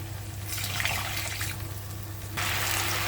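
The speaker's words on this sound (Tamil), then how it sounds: "இப்போ இந்த ஸ்டேஜில் நம்ம தண்ணி 1 கப் ஆட் பண்ணிக்குவோம்" Water is poured into a pan while mushroom ghee roast cooks, a soft, steady splashing pour that swells briefly and then surges again near the end.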